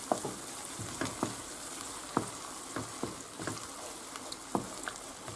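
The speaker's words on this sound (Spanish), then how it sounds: "ahora echamos el tomate. Lo movemos bien, que se rehogue un poquito también." Tomato sautéing in a pan for meatballs with mushrooms, a steady soft sizzle broken by repeated scraping stirs at an uneven rhythm, close and moderately quiet.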